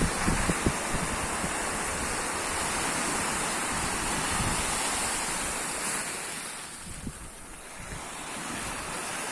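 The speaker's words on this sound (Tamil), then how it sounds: "கடுமையான காத்தாத்தான் இருக்குது." Strong wind roars across a seaside beach while surf crashes continuously, a dense, loud wash of wave noise and gusting wind buffeting the microphone throughout, with no voices.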